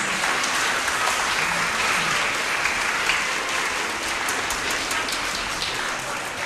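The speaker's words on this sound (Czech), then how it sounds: "Ještě jednou velký potlesk." Dense, steady audience applause at an annual youth orchestra concert, following the orchestra's anthem; continuous close clapping like heavy rain, without pause.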